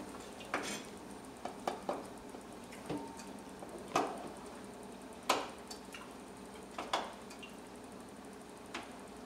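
Curry being stirred in a pot: scattered, quiet scrapes and clinks of a utensil against the pot come at irregular intervals, with near silence between them.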